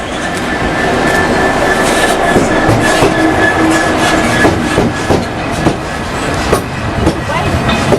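Model railway trains run along the track with a steady, continuous rumble and light rhythmic clicking from the wheels, a close and fairly loud sound that stays level throughout, with faint background chatter beneath.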